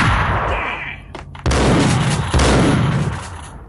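Two loud, close shotgun blasts in Max Payne, about a second apart, each with a heavy boom and a ringing tail.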